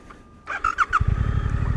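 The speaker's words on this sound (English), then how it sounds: "Turn on the bike, and we will start going in circles here" A Suzuki GSX-8R motorcycle starts up close by. There is a brief starter whir, then the engine catches and settles into a steady, throbbing idle.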